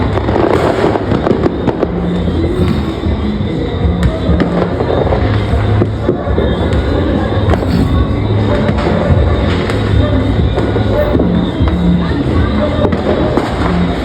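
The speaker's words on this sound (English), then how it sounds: "4 minutes of fireworks" Fireworks and firecrackers bursting during a display in Guyana, a dense, continuous barrage of crackling pops and booms, loud and steady throughout with no pauses.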